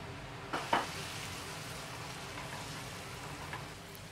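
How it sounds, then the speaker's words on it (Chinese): Tomatoes frying in hot oil with a pinch of salt, a soft steady sizzle throughout with a couple of brief clinks of a utensil near the start. "起锅热油，放入番茄，再加一点点盐，炒出汁水。"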